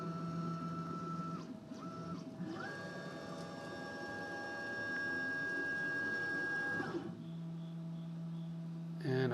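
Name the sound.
Makera Carvera Air CNC machine probing spindle Z height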